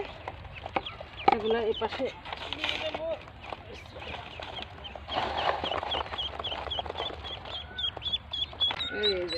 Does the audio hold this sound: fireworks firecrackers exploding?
no